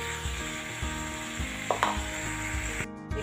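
Sliced ridge gourd frying in a pan over a full gas flame, a steady sizzle with a few sharp clinks of a spatula against the pan partway through.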